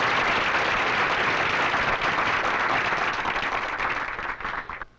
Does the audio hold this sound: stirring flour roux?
no